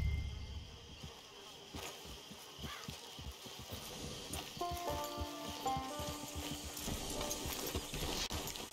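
Steady clip-clop of a horse's hooves in Red Dead Redemption II, a regular trotting rhythm over an outdoor ambience of insects and faint tonal background sounds, with no talk.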